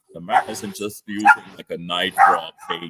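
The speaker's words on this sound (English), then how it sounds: "Sorry about my dogs having a party." Small dogs bark and yip excitedly indoors, sharp overlapping calls mixed with a voice talking steadily throughout.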